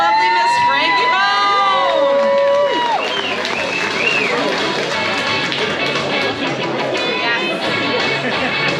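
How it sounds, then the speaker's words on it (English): An audience at a pin-up contest cheers and whoops for a contestant, with high whistles and shouts over a steady crowd roar. Voices are mixed into the noise. "Let's give a big round of applause for the lovely Miss Frankie Bone."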